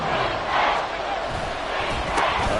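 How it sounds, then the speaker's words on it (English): Stadium crowd in a Madden football video game swells ahead of a big third down, a continuous roar of cheering and yelling with rising surges, fairly loud and close. "The crowd getting into it as we come up on a big third down."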